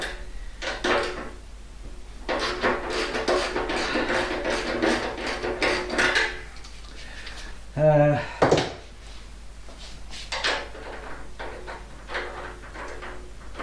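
Two tight 10mm bolts being undone on a Royal Enfield Himalayan motorcycle during fuel tank removal: a run of close metallic clatter and knocks, then a brief rapid ratchet-like clicking burst before more scattered taps.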